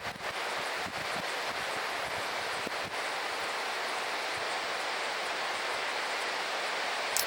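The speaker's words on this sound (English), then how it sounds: "a beautiful waterfall after the" A waterfall after light rain, a steady broadband rush of falling water that stays even and close throughout, with no voices over it.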